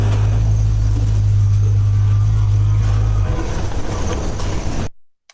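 An African savanna elephant imitates distant trucks on Mombasa Road, a loud steady low rumble like idling engines that roughens partway through and then cuts off abruptly.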